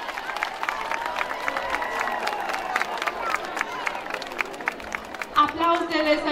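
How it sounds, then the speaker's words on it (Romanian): Applause and cheering from a crowd at a school opening ceremony in Șimleu Silvaniei, welcoming the new preparatory-class pupils; dense clapping throughout, with a brief louder burst near the end. "Să-i aplaudăm!"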